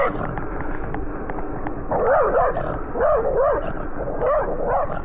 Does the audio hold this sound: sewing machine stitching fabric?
no